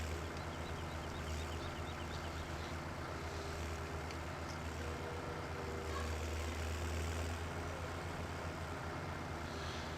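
A Massey Ferguson tractor engine drones steadily in Farming Simulator 17 as it is driven, a constant low rumble with no pauses and no voices.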